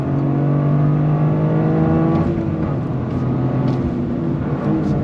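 A Toyota GR Corolla hot hatch accelerates hard in second gear on full throttle, its engine note rising steadily in a loud, continuous drone with close, sustained tonal whine.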